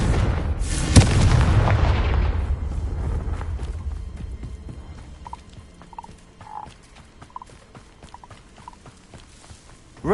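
A Confringo explosion spell in the video game Hogwarts Legacy bursts with a loud, deep boom that rumbles and fades over a few seconds, leaving faint game ambience with small chirping tones.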